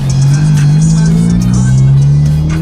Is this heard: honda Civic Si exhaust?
yes